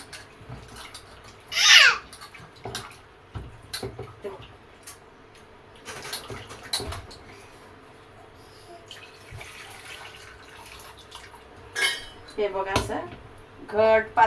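Water poured into a pot while cooking sheera for a prasad meal, heard as a short close splash and pouring burst amid scattered clinks of utensils and pots in a home kitchen, with more clattering and water sounds later.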